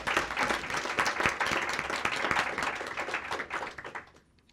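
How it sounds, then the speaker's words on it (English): Steady audience applause for panelists at an organizational culture and hiring event, a dense patter of many hands in a hall, holding evenly before tapering off at the end. "So let's give our panelists a great big round of applause."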